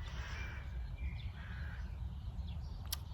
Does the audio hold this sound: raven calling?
yes